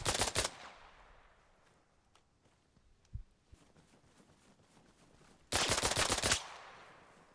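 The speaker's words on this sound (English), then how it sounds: "I can hear gunshots east of my position." Two loud bursts of rapid gunfire in a video game on a modded server, one at the start and a longer one near the end, with faint scattered shots and quiet ambience between.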